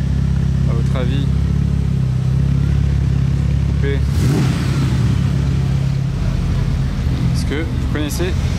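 A Ferrari F8 with a modified, non-stock exhaust roars loudly and continuously as it revs, the engine note rising and surging over several seconds, with brief chirps and crowd noise around it.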